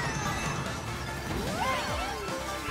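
A kart tumbles off the edge of a barrier-free outer-space track in Mario Kart, with a crashing smash and sweeping, falling electronic tones over steady game music.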